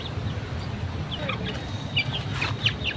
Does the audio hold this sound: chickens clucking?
yes